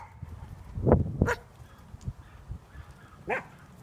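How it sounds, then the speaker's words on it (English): A dog barks in a few sharp, close outbursts with brief yips, the barks spaced irregularly against a quiet outdoor background. "And that dog, they don't do a very good job of controlling it."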